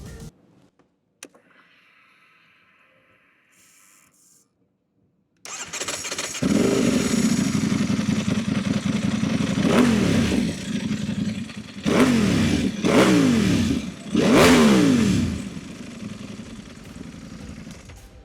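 A Ducati Panigale V4 S motorcycle fires up after a few faint clicks, settling into a loud, rough idle before three sharp, angry revs climb and fall close by; no talking.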